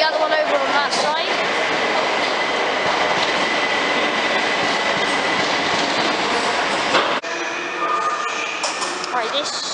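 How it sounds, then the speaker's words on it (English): A Class 377 passenger train to Brighton rumbles past close by near Farringdon with a steady roar and rattling wheels, the noise shifting abruptly near the end as it continues. "this is the Brighton train"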